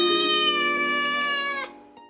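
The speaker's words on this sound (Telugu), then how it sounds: "అదే ఇంట్లో ఓ పిల్లి కూడా ఉండేది." A cat in a Telugu children's story, set in an old house full of mice, gives one long, loud, drawn-out meow that holds steady and then cuts off, heard alone without talk.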